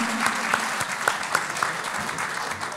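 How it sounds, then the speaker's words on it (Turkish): Guests at a Turkish meyhane music night clap for the venue's owner, a steady crowd applause with sharper individual claps standing out at a moderate distance, holding at an even level for a few seconds. "Kocaman alkışlar ona gelsin"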